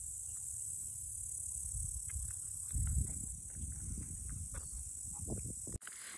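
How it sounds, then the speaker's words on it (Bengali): Crickets chirp all around on an outdoor mountaintop in Austria, a steady faint high trill over low wind rumble, with a brief bump near the end. "ঝিঝি পোকার আওয়াজ।"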